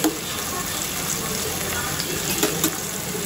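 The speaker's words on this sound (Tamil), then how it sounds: "ஒரு 2 மினிட்ஸ் வந்து வெங்காயத்தை வந்து வதக்கி விட்டுருவோம்" Onions sautéing in a pan at home, a steady soft sizzle with faint stirring and a couple of brief clinks, continuous and close.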